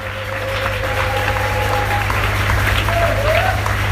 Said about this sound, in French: Applaudissez Jésus, s'il vous plaît.